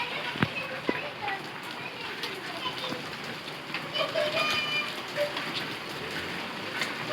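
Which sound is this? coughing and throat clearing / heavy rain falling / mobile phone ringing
heavy rain falling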